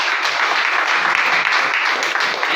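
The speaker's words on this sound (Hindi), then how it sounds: "सर के लिए एक बार जोरदार ताली।" An audience at a business seminar bursts into loud, steady applause for a presenter, a dense wash of clapping hands that holds evenly throughout.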